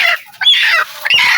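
A Bisaya chicken clucks in short, loud, close bursts with brief pauses between them, and no one speaks.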